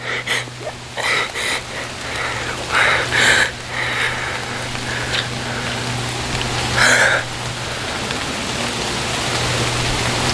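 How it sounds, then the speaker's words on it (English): Steady rain pours down with a constant hiss, scattered droplets and splashes breaking through now and then, no voices. "And the rains are coming, and I don't have an umbrella."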